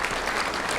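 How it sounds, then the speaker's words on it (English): Audience applause at the Garland Sports Hall of Fame 2019 induction ceremony in Garland, honoring the city's mayor; steady, dense clapping fills the whole short stretch at moderate loudness with no talk. "So if you guys would mind giving a round of applause to Miss Lori Barnett Dotson, the mayor of Garland"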